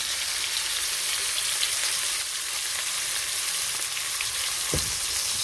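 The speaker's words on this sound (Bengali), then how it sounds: "একটু ভালো করে ভেজে নেব মশলাটাকে" Spices with chilli powder, turmeric and salt fry in a pan with a loud, continuous close sizzle that holds steady throughout, with one brief knock near the end.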